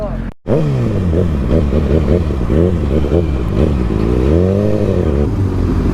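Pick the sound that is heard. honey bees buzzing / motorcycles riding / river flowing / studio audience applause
motorcycles riding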